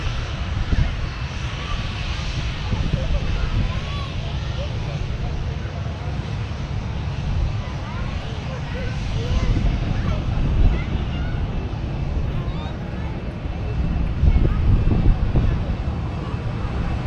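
A jet airliner inbound from Faro, Portugal comes in to land at Manchester Airport, a loud, sustained engine roar with wind buffeting as someone talks over it.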